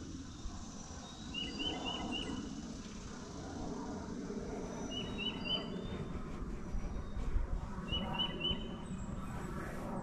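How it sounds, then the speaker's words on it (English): Faint birdsong carries from a distance in a garden in short chirping phrases that repeat a few times over a low, steady outdoor rumble. "Birds are singing."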